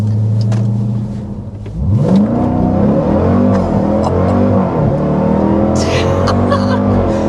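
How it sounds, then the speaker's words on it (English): The supercharged V8 of a 2025 Dodge Durango Hellcat idles briefly, then roars loudly as it accelerates hard, with rising and falling revs and supercharger whine close to the listener, ending in a sustained rumble. "the supercharger, when you start accelerating, oh my goodness, it's so unique sounding"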